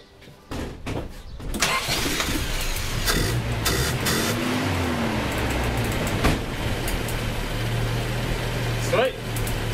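Car engine cranking and catching after an ignition repair, then settling into a steady close idle with a few clicks and knocks over the running motor.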